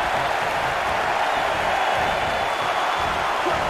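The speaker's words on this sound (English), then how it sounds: "Listen to this crowd count the next one in." A big wrestling arena crowd at a Royal Rumble event roars in a dense, steady wall of noise that stays loud and continuous throughout, with no clear counting rhythm standing out.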